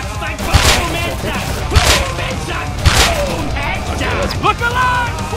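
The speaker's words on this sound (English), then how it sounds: "My hands are shaking, but I'm still shooting." Bursts of gunfire and heavy thumps in a Foxhole war game battle at Jade Cove, several sharp shots standing out over constant dense combat noise with voices talking throughout.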